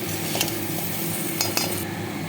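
Spices for jeera aloo, chilli powder, black pepper, amchur and garam masala, frying and stirred in a pan: a steady close sizzle with a few sharp utensil clinks against the pan, no voices.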